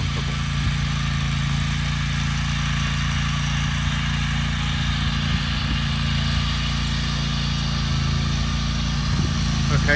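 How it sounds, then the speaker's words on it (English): A lawn aerator being driven across a big hill drones steadily and loudly for the whole stretch, a constant mid-pitched engine hum with no breaks. "mowing, aerating the big hill as much as she can do where she feels comfortable."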